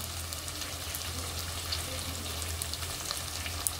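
Vegetables stir-fry in a pan over a full gas flame, giving a continuous close sizzle and crackle with small pops and a low burner rumble underneath.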